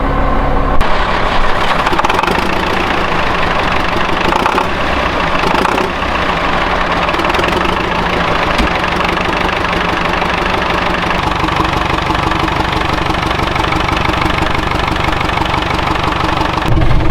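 An old tractor engine idles steadily and loudly nearby with a constant rough mechanical rumble and knock, running alone without pause after an alternator charging check.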